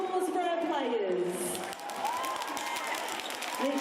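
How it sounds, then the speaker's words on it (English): A crowd at a basketball game in an arena applauds the halftime players, steady clapping and cheering beneath an announcer's amplified voice. "A round of applause for our players."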